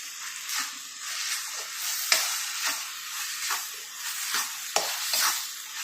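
Masala with ginger and tomato sizzling and frying in a pan, a soft continuous sizzle broken by rhythmic stirring scrapes and a couple of sharper clinks, close and moderately quiet.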